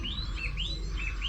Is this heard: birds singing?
yes